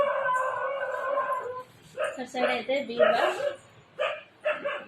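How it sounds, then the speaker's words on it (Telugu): Dogs in a home bark and yip in short bursts amid household noise, partly masked by someone talking nearby throughout. "కుక్కలు అయితే బాగా అల్లరి చేస్తున్నాయి."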